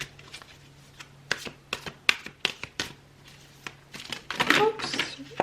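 Tarot cards being shuffled and cut, a series of crisp close slaps and riffles at uneven intervals building to a denser flurry near the end, with a voice briefly mixed in.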